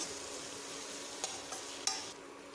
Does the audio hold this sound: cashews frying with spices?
yes